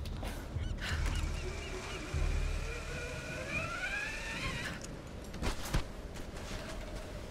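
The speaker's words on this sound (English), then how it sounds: "I thought I killed that seagull" Seagull cries from the Tomb Raider (2013) video game, several wavering calls in a row over a steady background of game ambience, moderately loud, with no voices over them.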